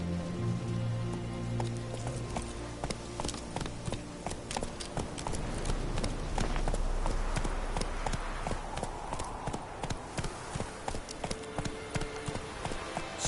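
The hooves of Roach, Geralt's horse in The Witcher video game, clop in a steady rhythm with sharp, close repeated strikes over a soft ambient bed. There is no talk.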